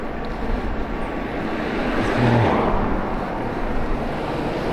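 Steady road traffic rumbles and swishes past an electric bike on a British road, a broad, continuous roar with one vehicle swelling nearer midway, mixed with wind buffeting the rider's microphone.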